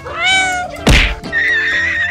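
Cats meowing in a cat cafe, two close, loud drawn-out meows with a sharp thump between them.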